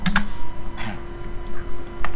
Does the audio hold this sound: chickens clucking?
no